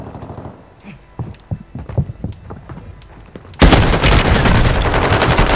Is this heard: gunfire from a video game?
yes